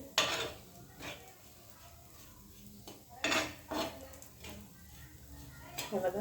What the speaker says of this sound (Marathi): थोडंशा तेलामध्ये छान मस्त अशी भाजलं जाते चटणी